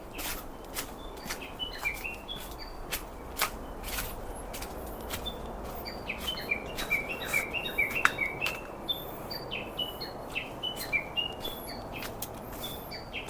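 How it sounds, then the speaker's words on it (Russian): Several birds sing and chirp steadily in a ravine along a wooded path near Kamakura, with overlapping high twittering phrases at moderate distance over soft footsteps and rustling. "Тут прям птички распелись."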